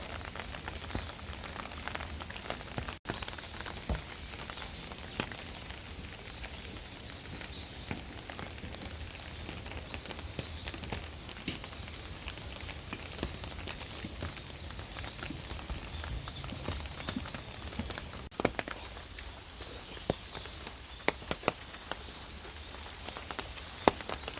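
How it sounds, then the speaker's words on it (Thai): Heavy rain pours steadily in Kyoto near the fox deity shrine mountain, a dense, even patter of drops on surfaces with occasional sharper splashes, lasting throughout without voices. "ฝนตกหนักมาก ฝนตกหนักมากๆ"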